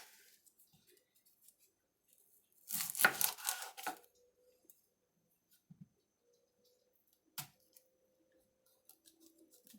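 Knife slicing onions on a board for dehydrating: a loud burst of dense chopping strokes in the middle, then a few faint isolated taps and clicks with quiet pauses.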